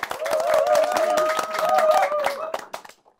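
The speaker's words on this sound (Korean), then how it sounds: "박수 부탁드리겠습니다" A small audience at a Korean book forum claps to welcome an author, a lively burst of close hand claps that fades out near three seconds, with people talking over it.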